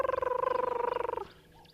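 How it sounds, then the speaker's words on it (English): A rapid, purring trill from a crested barbet, a steady buzzy chirr of quick pulses lasting about a second before cutting off, moderately close. "That is a crested barbet."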